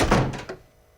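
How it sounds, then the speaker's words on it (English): A door is shut with a single solid thunk at the start, leaving a short decaying tail and a faint click near the end. "Shut the door!"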